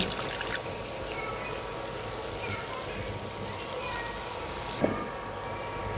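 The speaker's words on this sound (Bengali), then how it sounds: "এই বাটিতেই আমি একটু পানি দিয়ে বাটিটা ধুয়ে পানিটা দিয়ে দিচ্ছি" Water from a rinsed bowl is poured into a cooking pan while making a steamed cabbage curry, a steady close trickle and splash lasting several seconds, with a short sharper clatter near the end.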